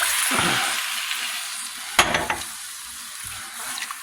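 Chicken stock pours into a hot jambalaya pan, a broad steady sizzle and hiss with a brief louder splash and bubbling burst midway, then settling back to continuous frying.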